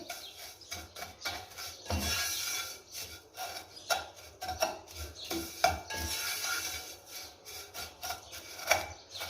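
Vermicelli toasting in a little oil inside a cooking pot for sheer khurma, with a steady run of close scraping, rubbing and clinking strokes from a spoon against the metal, uneven in rhythm and heard alone.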